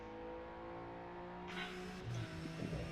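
A race car engine in a racing simulator video game hums faint and steady, with a brief noisy burst partway through and small knocks near the end.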